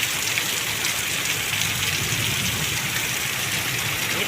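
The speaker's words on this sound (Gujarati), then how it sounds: "અમે ઘરમાં ભરાઈ જઈને છે ને વરસાદ ફૂલ પડે છે" Heavy rain pours steadily and loudly on surfaces around a house, a dense continuous hiss with a low rumble beneath and no voices.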